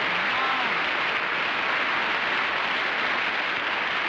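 Studio audience applause on a 1964 television panel show, a dense, steady wash of clapping filling the whole stretch at even loudness with no voices on top.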